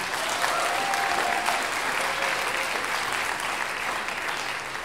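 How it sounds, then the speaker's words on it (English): An audience at a choral oratorio performance claps in sustained, even applause that fills a large hall, with a brief faint voice early on. "but just go ahead and start clapping."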